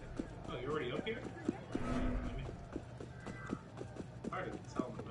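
Horse hooves clip-clop in a video game with a steady, fairly close rhythm of hoofbeats, while a voice talks over them.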